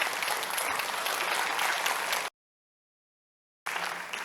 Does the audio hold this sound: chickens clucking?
no